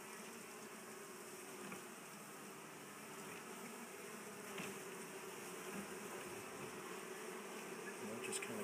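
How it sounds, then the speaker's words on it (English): Honey bees hum steadily inside an open top bar beehive, a dense, close, continuous buzz with no talking. "I just don't want to squish any of these girls while I put this back in."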